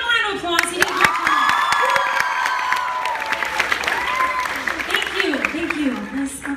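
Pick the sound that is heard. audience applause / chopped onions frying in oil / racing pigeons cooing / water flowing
audience applause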